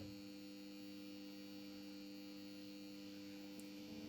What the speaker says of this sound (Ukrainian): Спробуємо записати шум нашого насоса.